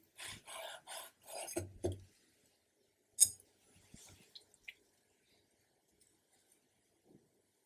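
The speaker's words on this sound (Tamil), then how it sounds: "இப்போ கெசடியா வந்து கட் பண்ணிக்கலாங்க. நல்லா கிரன்ச்சியாக இருக்கும்." A knife cuts through a crunchy vegetable quesadilla with several close, dry rasping crunches in quick succession, followed by a few sparse, faint taps and scrapes in a quiet room with no talking.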